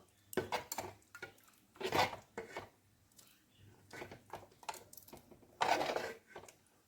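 A spoon scrapes and taps around a pot as ghee-fried cashews and raisins are stirred into thick rice payesh, with irregular soft knocks and rubbing strokes, close and quiet and without any talk.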